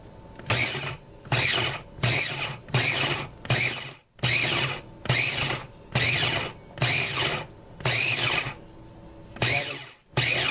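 A food processor pulses buttermilk biscuit dough in loud, evenly spaced motor bursts, about ten of them, each lasting under a second with brief gaps between, close and alone without talk.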